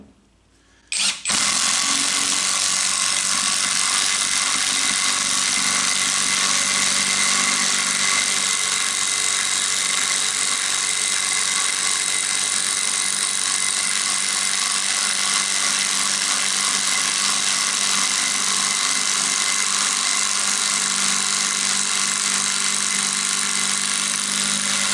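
A cordless 20-volt IngCo impact driver set on high drives a large 100mm bugle screw into Australian hardwood, plywood and pine, a loud continuous whirring hammer-rattle running steadily for over twenty seconds after an abrupt start.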